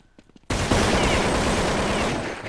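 Sustained automatic gunfire from Counter-Strike on de_inferno breaks in after a few faint clicks, a loud dense burst of rapid shots that holds steady for two seconds.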